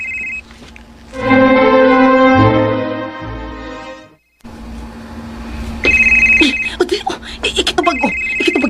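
An incoming call sets a phone ringing with a repeated electronic ringtone, loud and close, broken by a brief gap, while a voice talks over the later rings.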